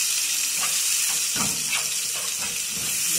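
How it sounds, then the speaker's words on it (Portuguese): Garlic with homemade seasoning and salt sizzles steadily while browning in a pan, a constant loud hiss with faint pops and crackles running throughout. "Vou dar uma refogada nesse, uma dourada nesse alho aqui"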